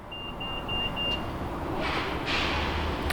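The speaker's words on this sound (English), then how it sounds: "the reason why the car beeps at me because there's a smart proximity key" A 2019 Mitsubishi Outlander GT chiming a smart proximity key reminder: a fast train of thin, high beeps for about a second, followed by faint rustling and handling noise nearby.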